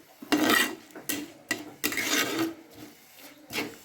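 Onions sautéed in a pan for a simple egg dish, a spatula scraping and stirring in several short, close bursts with brief pauses between them.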